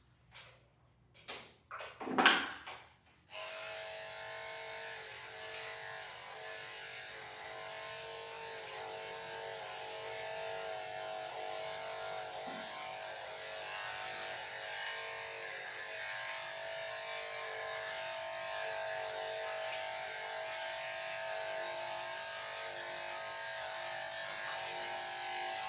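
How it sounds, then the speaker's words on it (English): Electric dog clippers shave a dog's front legs, buzzing steadily and close for most of the stretch after a few short knocks and handling noises at the start, with no talking. "we'll shave his front legs"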